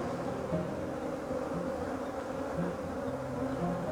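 A newly hived honeybee colony hums at its hive during a pre-winter inspection by a wild beekeeper, a steady, dense buzzing drone heard close up and unbroken, with no talking.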